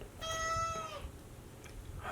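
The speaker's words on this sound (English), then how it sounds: "let me get the cat" A single drawn-out meow from a cat named Snickers, fairly close and clear, followed by a faint quiet room.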